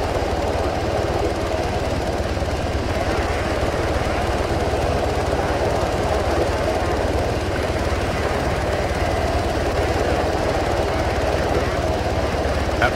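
In an Arma 3 combat mission, the rotor and engine of a damaged helicopter give a loud, continuous chopping drone that fills the whole stretch with a steady rumbling roar.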